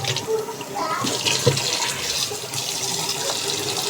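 Running water pours over a broom's brush head as it is rinsed, a steady close splashing flow that fills the whole stretch with small gurgles and shifts.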